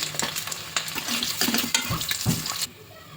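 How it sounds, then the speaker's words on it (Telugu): Eggs fry in hot oil with a continuous close crackling sizzle, punctuated by several clattering utensil knocks and scrapes against the pan, then the sizzle quietens abruptly near the end. "ఫ్రై అయిన తర్వాత చూపిస్తానండి. కొంచెం ఫ్రై అయ్యాయండి."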